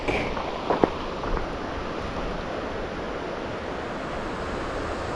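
Steady rushing water of Squaw Valley Creek flowing beneath a bridge, a dense continuous broadband wash close by, with a couple of brief faint knocks early on and no talking.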